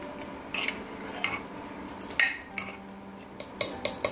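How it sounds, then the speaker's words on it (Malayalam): Onion sambar being stirred in a cooking pot, with a spoon scraping and clinking against the metal in a few sharp, scattered knocks over a low steady background. "ഒന്ന് ഇളക്കി കൊടുക്കാം."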